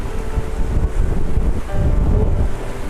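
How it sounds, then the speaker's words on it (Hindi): Water lapping on a trout lake in Kalam, Swat, with strong gusty wind buffeting the microphone in loud, rolling surges that nearly bury the water. "जो पानी की आवाज़ है बहुत ज़्यादा मेरे दिल को छू रही है।"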